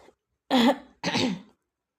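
Two loud, close coughs, one right after the other, harsh and throaty, with silence around them.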